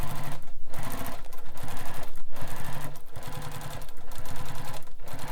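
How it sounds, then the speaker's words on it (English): A sewing machine top stitches a fabric Piper bag, running loud and close in fast, steady bursts of rapid needle chatter, with brief pauses between runs. "And top stitch on top."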